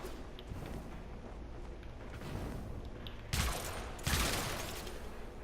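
Sybaris Prime rifle in Warframe firing two-round bursts, two sharp loud reports late in the clip over a steady hum of game ambience, no talking.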